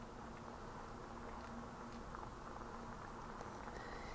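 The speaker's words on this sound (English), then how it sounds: "gentle little bubbles" Thickening mac and cheese sauce simmers in a pan on the stove, making a faint, steady patter of small bubbles with no voices.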